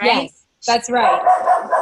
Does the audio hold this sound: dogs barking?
yes